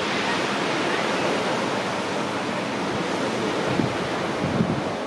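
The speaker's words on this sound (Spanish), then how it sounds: "Hay un viento, a veces un viento muy fuerte" Strong wind roaring over open sea with crashing waves around a capsized sailboat near a fish farm, a dense, constant rush of wind noise and surf filling the clip without voices.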